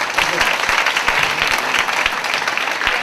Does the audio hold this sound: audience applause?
yes